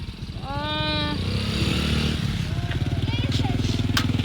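A motorbike engine revs loudly up close into a steady, rapid putter, while a person speaks over the start.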